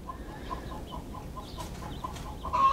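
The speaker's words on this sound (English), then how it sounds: "Chickens are waking up." Chickens cluck in a soft, repeated rhythm in the background, short throaty notes recurring steadily, with a brief louder squawk at the end.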